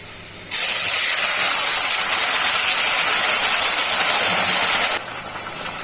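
Liquid splashed into a pan of fried onion masala sets off a loud, steady sizzle that bursts in suddenly, holds strong for several seconds, then drops back to a quieter frying hiss.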